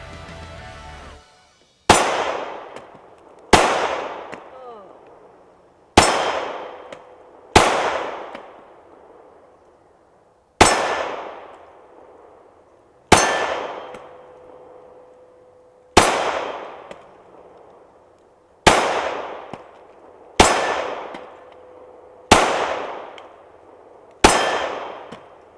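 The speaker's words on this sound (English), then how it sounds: "what you just saw was Jamie shooting" A 9mm Glock handgun fires at target practice, ten sharp, loud shots spaced a couple of seconds apart, each ringing out with a short decaying echo.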